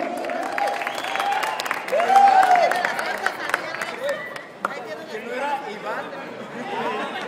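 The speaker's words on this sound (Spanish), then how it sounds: "¡Aplausos!" Crowd applause and chatter at a pump fest competition as second place is announced, scattered claps under steady crowd noise with voices talking and shouting throughout.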